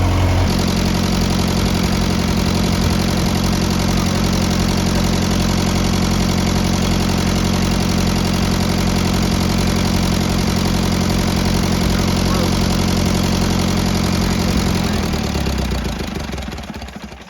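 An International Harvester 574 tractor engine idles loudly and steadily with a deep, low rumble, then winds down and cuts off near the end.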